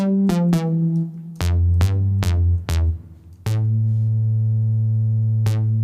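Deep synth bass holding long sustained notes, each starting with a sharp click, a few short ones, then one long held tone, loud and alone.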